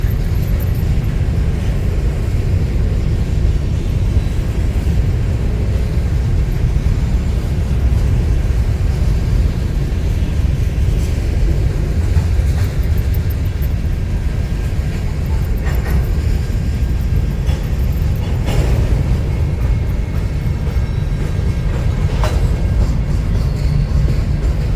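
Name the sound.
train passing by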